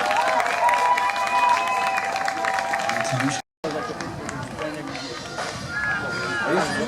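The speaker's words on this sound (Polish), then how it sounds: "Wielkie brawa, Maciej Ślęzak!" Crowd at an American football game applauding and cheering amid stadium babble, with a brief dropout midway and an announcer's voice over the noise.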